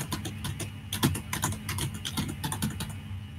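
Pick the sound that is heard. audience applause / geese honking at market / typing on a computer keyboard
typing on a computer keyboard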